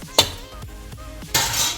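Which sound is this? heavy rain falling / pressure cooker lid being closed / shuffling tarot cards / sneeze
pressure cooker lid being closed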